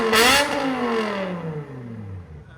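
A 500 hp BMW M5 with a 5.0L V10 and straight pipes gives one sharp, loud rev up close, then the engine note winds down smoothly over a couple of seconds.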